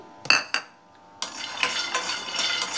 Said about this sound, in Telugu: గుప్పెడి పల్లీలను కూడా వేయించుకుందాం ఇప్పుడు